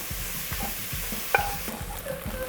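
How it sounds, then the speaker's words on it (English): Spoon scraping browned fond off the bottom of a pot holding peppers and onions in liquid, with rhythmic close scrapes and a light sizzle, one sharp clink midway. "the fond scrapes right up"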